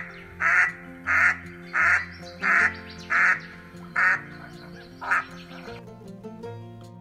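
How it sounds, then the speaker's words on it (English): A mallard duck quacks eight times in a steady, evenly spaced series. The calls are loud and close, heard alone with no voices. "Mallard duck."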